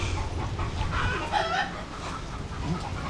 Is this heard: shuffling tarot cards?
no